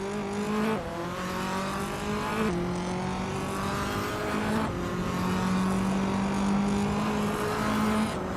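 Race cars, including a 2016 Lada Vesta, lap a circuit with tight corners and chicanes, engines droning steadily and shifting pitch through gear changes and corners, loud and continuous with no talk.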